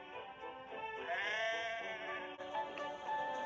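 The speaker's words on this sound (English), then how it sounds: "Some careless sheep had strayed onto the line." Sheep bleat several times in a row from a flock standing on a railway line, loud and wavering, with overlapping calls over steady background noise.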